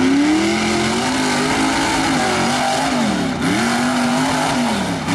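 A racing buggy engine revving hard at the starting line, loud and close, its pitch climbing, dropping sharply around the middle, then rising again, with no voices.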